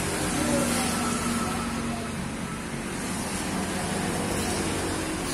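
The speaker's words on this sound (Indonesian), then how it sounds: "Biar mesin hidup dulu baru water pumpnya dihidupin." A Honda Vario 125 scooter fitted with a front external radiator runs steadily, a low, even engine drone with no clear revving throughout.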